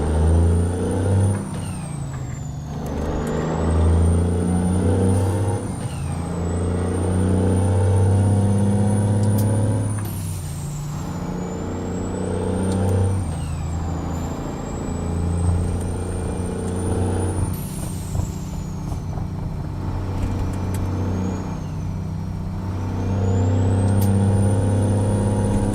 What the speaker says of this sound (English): this old 2-stroke Detroit in that everyone's running? Apparently it's very loud